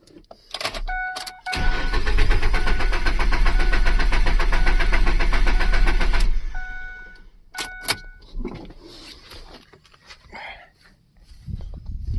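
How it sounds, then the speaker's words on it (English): A car engine with a bad starter and the fuel pump disabled cranks loudly for several seconds without firing, followed by clicks and quieter knocks nearby. "this thing's got a bad starter, so there's a lot of noise in this"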